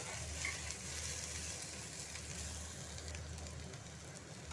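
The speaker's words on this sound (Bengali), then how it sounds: "এখন ঢ্যাঁড়সগুলো ভাজা চলছে। আমি অল্প আরেকটু তেল দিলাম, সর্ষের তেল" Okra frying in mustard oil gives a soft, even hiss that runs steadily and fairly quietly, with a low hum underneath and no voices.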